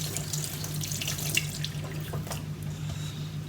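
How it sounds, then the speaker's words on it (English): A model paint brush is rinsed under a running kitchen tap, giving a steady close hiss and splash of water in a sink with small shifts as the bristles move through the stream; no one speaks. "we'll take this one now and we'll rinse that off"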